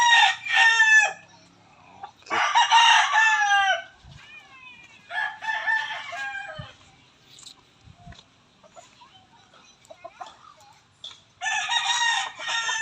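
A roundhead gamefowl rooster crows loudly and close several times in a rural yard, with quieter clucking and faint farm sounds between the crows.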